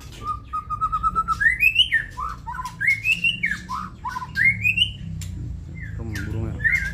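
A captive murai magpie-robin singing close by, with a varied run of loud whistled phrases, quick trills and rising notes, delivered in bursts over a low background hum.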